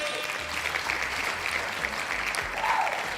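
An audience at a late-night comedy show gives a brief, steady burst of applause, moderately distant and fairly even in loudness over a few seconds.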